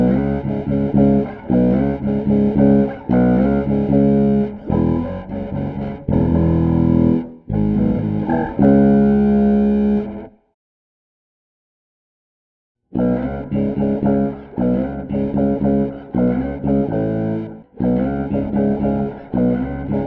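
A Zoia pedal patch runs into an OC5 octave pedal, adds its own grit and finishes with a touch of room reverb. The result is loud, sustained, distorted electronic tones in choppy phrases, with a clean break of silence midway through.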